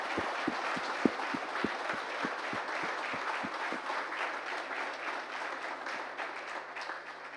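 Audience at IIT Kanpur applauding new faculty at a director's address, a few distinct claps swelling into steady, dense applause that fades slightly toward the end, heard from within the hall.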